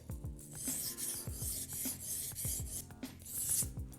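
Scissor blade being honed by hand on a 1000-grit whetstone, repeated gritty rasping strokes in a steady back-and-forth rhythm, close and fairly quiet.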